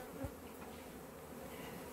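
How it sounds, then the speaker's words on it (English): A swarm of honey bees being scooped from a cupboard hums in a steady, low, dense buzz that stays even throughout, with no voices. "we're going to see if we can scoop these bees out and drop them in the box"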